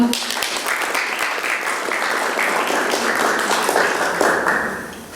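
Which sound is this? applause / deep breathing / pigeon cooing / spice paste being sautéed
applause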